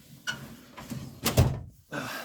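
A drawer in a home toolbox slides shut with a few quick clunks, the firmest one near the middle, in a quiet room with no talking.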